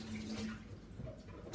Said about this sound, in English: then rinse with cold water